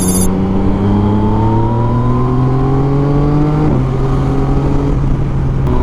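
A Yamaha MT-09 motorcycle with an Akrapovic exhaust revs hard at high RPM, its loud engine note climbing steadily, dipping briefly at one point, then holding high and rough right to the end.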